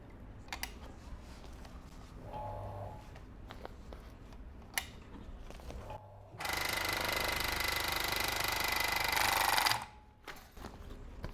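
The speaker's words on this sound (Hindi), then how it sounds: "अब आपको इस प्लास्टिक पे सिलाई करके दिखाता हूँ।" A bag closer machine, just reassembled after a full repair, stitching through plastic sacking in a broad, steady mechanical rattle for about three seconds, louder than the quieter handling and clicks before and after it.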